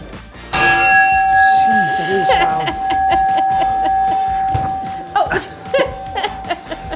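A loud bell strikes once and rings out with a long sustained tone, followed by laughter and chatter.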